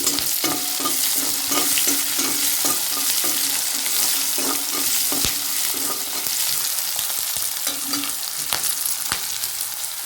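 Onions fry in a pan with a steady, close sizzle, broken by rhythmic stirring scrapes and a few sharp clicks from the utensil, continuous and fairly loud throughout with no talking.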